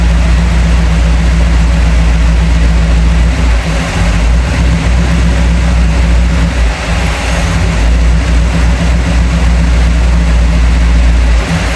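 A dual-carbureted flathead engine idles loud and steady up close, a continuous low rumble with an even, lumpy throb that barely varies over nearly twelve seconds.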